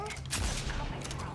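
Gunfire from the video game Starfield comes in a couple of quick, sharp bursts over a low rumbling backdrop, with a faint voice under the shots.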